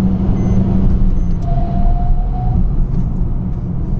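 Maruti Suzuki Ciaz sedan cruising at 110 km/h, a steady, loud low rumble of road and engine noise with wind hiss filling the cabin throughout, a faint tonal whine rising briefly in the middle.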